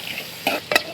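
Coconut pieces, shallots, curry leaves and dried chilies fry in hot oil with a soft sizzle, broken by two brief stirring scrapes close by.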